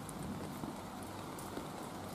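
Rain falls on potted plants outdoors, a soft continuous patter with scattered drips, faint and even throughout with no voices.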